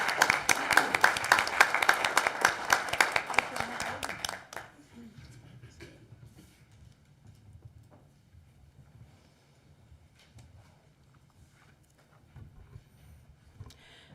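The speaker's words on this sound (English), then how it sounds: "Let's get a round of applause for those new members" Applause for newly seated town council members at a meeting, a short burst of clapping that fades after about four seconds into quiet room noise.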